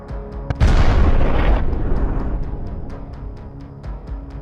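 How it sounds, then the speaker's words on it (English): A bomb blast from a night-time FPV drone strike on soldiers walking down a rural road: a sudden loud, close boom with a broad roar that lasts about a second, then a slowly fading rumble and faint ticking. "a first explosion goes off behind them"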